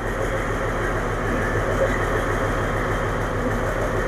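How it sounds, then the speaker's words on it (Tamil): A train engine runs steadily at a station on Sri Lanka's Colombo to Galle coastal line, a loud continuous low rumble with a throbbing idle. "இன்ஜின் சவுண்டை பாருங்க, பயங்கரமா இருக்கு."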